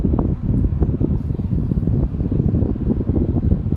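A small Nikon electric fan blows air weakly at low speed, giving a steady low whooshing rumble close to the microphone with no voices.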